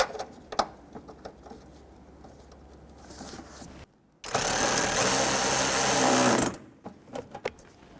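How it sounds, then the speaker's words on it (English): A 10mm socket drives a bolt into the bumper insert at the fender well of a 2005-2021 Nissan Frontier, heard as a steady buzzing power-tool run of about two seconds, preceded and followed by scattered clicks and light handling noises. "10mm socket. We're going to tighten up that long one first."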